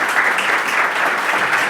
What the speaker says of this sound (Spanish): un aplauso a los patrocinadores